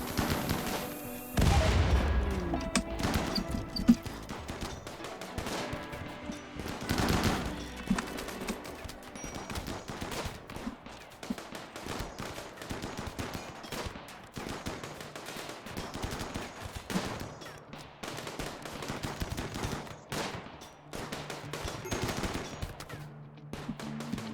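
Bursts of gunfire and shotgun blasts in the colony-building video game RimWorld, with a loud opening volley followed by scattered shots and rapid sequences of reports continuing throughout, dense and irregular, with no talk.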